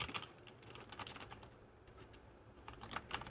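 Quiet, rapid typing on an RK71 mechanical keyboard with red linear switches, a loose stream of soft, close keystrokes with small bursts and pauses, no talking.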